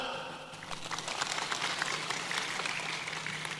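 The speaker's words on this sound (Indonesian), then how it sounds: "Tepuk tangan." A church congregation claps together, a crowd's steady applause that rises after a moment and holds at a moderate level, somewhat distant in the room, with faint voices mixed in.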